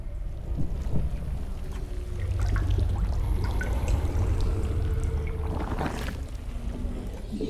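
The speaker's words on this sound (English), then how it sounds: "That damn fool pilot started the engines." Ship engines starting up in a real-time strategy video game, a steady low rumbling roar that swells and holds, with airy wind-like noise layered on top and no voices.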